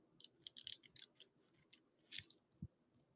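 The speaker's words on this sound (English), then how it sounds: "So like this whole box is full of them. Like I can move it around and they crunch." Pressed dried leaves and flowers shifting inside a box, giving faint, irregular dry crackles and crunches in short bursts with a few soft thumps, close by and quiet.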